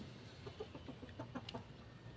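Roosters on a farm give a series of short clucking calls, about half a dozen quick bursts spread over two seconds, close by against a steady rustling background.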